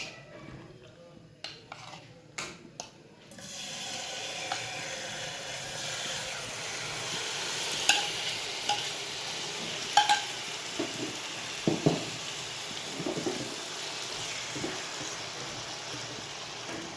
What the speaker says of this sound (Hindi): अब इसमें चिकन को फ्राई करेंगे